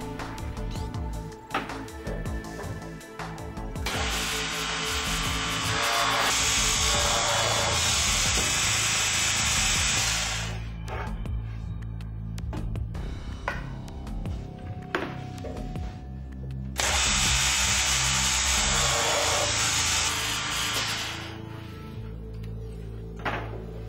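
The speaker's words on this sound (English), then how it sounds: "The drilling aggregate is in the vertical or face boring position." A Gannomat DB 21 multi boring and dowel drilling machine whirs and grinds in two long bursts, bits face-boring into wood panels with a harsh hiss, separated by quieter mechanical clunks and motor hum.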